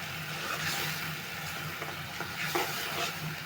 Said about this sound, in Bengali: এখন মশলা কষা নেব।